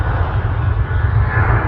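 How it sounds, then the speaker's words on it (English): A Jet2 aircraft at Manchester Airport gives off a loud, steady engine roar with a rough, rattling low rumble. It runs continuously with no talking. "Jet 2 in the background making loads of rattling."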